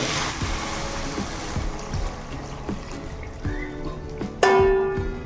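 Water poured into a pot of village-style crab curry, a trickling pour with clinks of utensils against the pot, ending in a sharp metallic tap.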